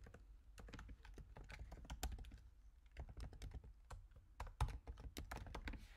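Fairly quiet computer keyboard typing, with many light key taps in an irregular flurry and occasional sharper clacks, heard alone without voices.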